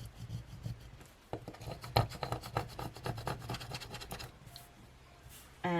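Vinyl lettering on transfer tape being pressed down onto an A5 Archer & Olive bullet journal page, giving a close run of dry scratchy rubbing strokes in quick irregular succession, then a near-silent pause and a brief louder rustle at the end.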